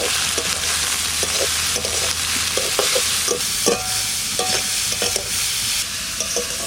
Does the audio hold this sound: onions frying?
yes